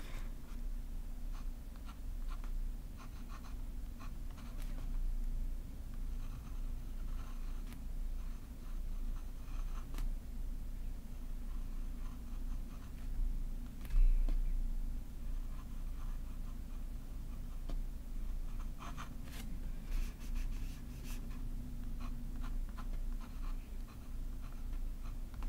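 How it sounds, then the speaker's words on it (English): A fountain pen scratches steadily across paper, a soft continuous writing sound in short strokes, quiet and close with a low hum in the background and no talking. "I'm actually gonna go ahead and write the same thing down here with this pen"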